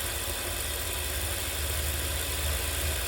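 A RevoSlot Group 2 slot car motor runs on a test bench at lowered voltage, producing a constant, even electric whir and hum with no talk over it.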